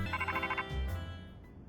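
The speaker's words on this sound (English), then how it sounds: "Oops, that's my phone, my bad." A phone ringtone plays, a quick trilling electronic ring lasting just over half a second, followed by a low hum and a faint voice.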